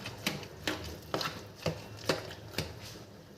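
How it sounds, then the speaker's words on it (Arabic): Roasted eggplant is mashed with a fork in a bowl, giving six evenly spaced soft thuds, close and fairly quiet, with no talking. "نهرسه بقى كده كويس بالشوكة على قد ما تقدري"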